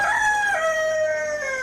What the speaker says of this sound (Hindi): ना तेरे मुर्गे की जुबान रुकती है